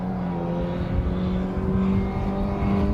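A burgundy MG race car with a white stripe, number 99, drones steadily through qualifying at Brands Hatch circuit, its engine a loud sustained hum that rises slightly in pitch as it drives.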